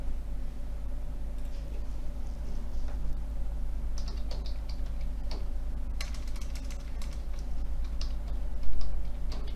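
Steady clicking of a computer keyboard as a bank user ID and password are typed in for online tax payment, quick irregular keystrokes over a constant electrical hum, with no talking.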